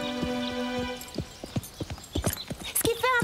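Horse hooves clip-clop in an uneven series of sharp, close knocks, with a brief whinny-like cry near the end over a steady hum.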